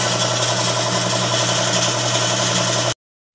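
A Honda BR-V engine idles loudly and close with a constant rumbling hum, then cuts off abruptly to silence near the end.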